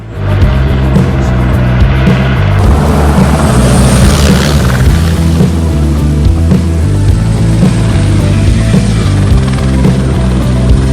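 Helicopter flying during a power line pull, riggers guiding cable through tower sheaves in strong wind; a loud, steady rotor and engine drone with throbbing low pulses runs continuously and close throughout.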